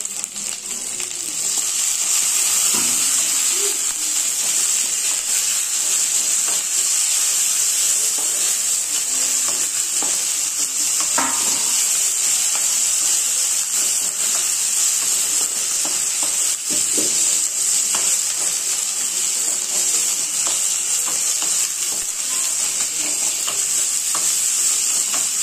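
Katla fish sizzling steadily in a hot pan for a curry with tomatoes and salt, with occasional stirring scrapes and clinks over a constant bright frying hiss, close and fairly loud throughout.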